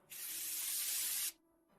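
An aerosol can sprays in one steady, close hiss lasting just over a second, then cuts off sharply, leaving a faint tail and no talking.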